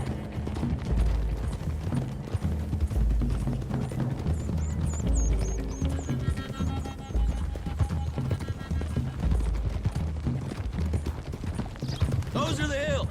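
Horses gallop in the video game Red Dead Redemption 2 with rapid, rhythmic hoofbeats and occasional whinnies, loud and close, under bursts of music and voices talking.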